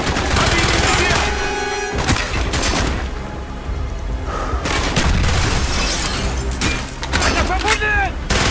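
Gunfire in Call of Duty: Black Ops, with loud bursts of automatic weapon fire and heavy shots in dense, overlapping volleys, some brief pauses between, and shouted voices mixed in.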